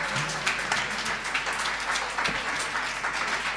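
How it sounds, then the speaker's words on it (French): A seated audience at a Paris regional tourism conference applauds the speakers with steady, dense clapping that continues evenly throughout, fairly close and without voices over it. "Vous pouvez applaudir quand même nos intervenants."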